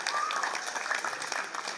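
A theatre audience gives vigorous applause for crew members at a stage play, a dense, even patter of many hands clapping together.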